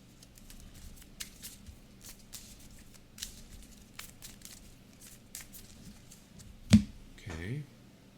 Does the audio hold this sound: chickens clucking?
no